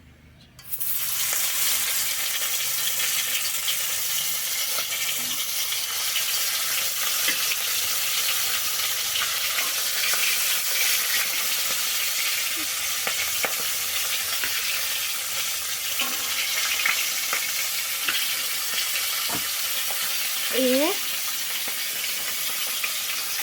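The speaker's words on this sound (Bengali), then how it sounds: "তো খুন্তি দিয়ে ভালো করে মেখে নিলাম" Food being worked with a metal spatula in a pan, a steady close sizzle under scattered scraping taps and short metallic scrapes, with no talking.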